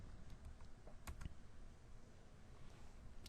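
A computer keyboard typing in a short value, with a few faint, soft key clicks spaced unevenly against a quiet background hum.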